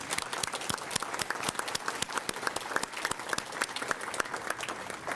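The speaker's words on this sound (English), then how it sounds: "could you just give them a round of applause?" Applause from the audience at a GED graduation ceremony held by a university health system, a steady dense patter of many clapping hands at moderate distance, continuing without pause throughout and with no talking.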